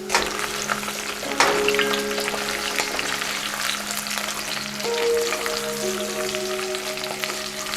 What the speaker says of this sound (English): Trying to get some color on the butternut squash and infuse the flavor of the spices into it.